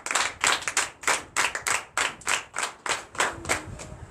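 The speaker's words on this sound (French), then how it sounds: "Donne l'acclamation." Rhythmic clapping from a church congregation at a Sunday service, about a dozen strong, evenly spaced claps in a steady beat, loud and close with no talk.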